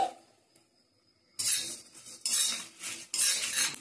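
Whole coriander, cumin and fennel seeds dry-roasting in a pan for an amla pickle spice mix, quiet at first, then three bursts of metal spoon scraping and stirring against the pan, close and loud.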